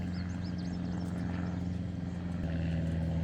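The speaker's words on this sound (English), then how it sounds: "Must be landing time for all the airplanes at the airport nearby, because this is about the 5th one that's flown overhead in the last half hour" A propeller airplane drones overhead on its approach to a nearby airport, a steady low engine hum with a constant tonal whine that holds evenly throughout, heard from a boat on open water.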